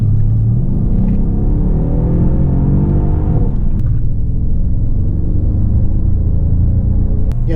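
A Mercedes-AMG S 63 Coupe accelerates hard in sport mode, its engine a loud, deep rumble that rises in pitch, then settles into a steady heavy drone as it pulls. Heard from inside the cabin.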